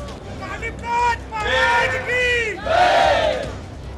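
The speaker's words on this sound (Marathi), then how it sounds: "शर्यत पाहण्यासाठी नागरिकांची झालेली मोठी गर्दीही आपण इथे पाहतोय" Large outdoor crowd at a bullock cart race in Maval, Pune, with loud swelling shouts and cheering in bursts over a constant babble of voices.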